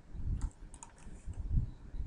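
Computer keyboard typing while entering a calculator-style formula, a brief run of soft, irregular clicks and taps at close range with no voices.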